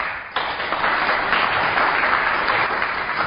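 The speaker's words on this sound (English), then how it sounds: "Please give a very big clap to Australia, my country." An audience at a spiritual talk breaks into loud, sustained applause that starts abruptly and continues as a dense wash of clapping to the end.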